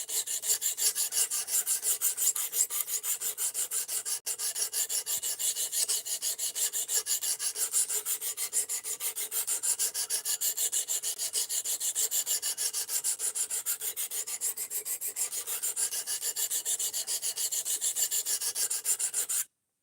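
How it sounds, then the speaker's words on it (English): An Ozark Trail axis lock knife blade is drawn across a sharpener in a steady, fast rasping rhythm, close and continuous for about twenty seconds, with no voices. "I spent years carrying knives without being able to sharpen them for myself."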